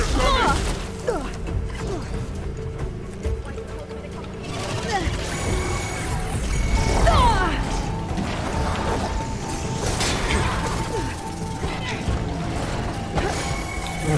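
Robotic machines attack in Horizon Forbidden West with mechanical clanks, ratcheting gear noises, whooshes and crashing hits over a dense game soundscape, while a person talks throughout.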